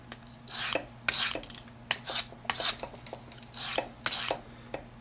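Knife drawn freehand across a coarse sharpening stone, about eight short gritty scraping strokes in an uneven rhythm, close up and quiet against a low steady hum.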